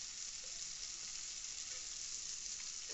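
Ground spices such as turmeric and Kashmiri chilli powder fry in a pan for egg kalia while being stirred, a constant close sizzle with faint scraping underneath and no voices.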